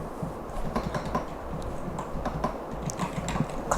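Keys clatter steadily on a computer keyboard while someone types install commands on Linux, close and continuous with a low hum underneath.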